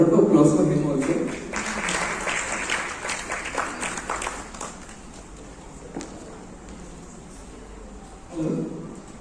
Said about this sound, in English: let's have a round of applause for him also